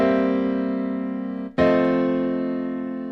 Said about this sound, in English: What you just heard was a C dominant seventh chord resolving to an F dominant seventh chord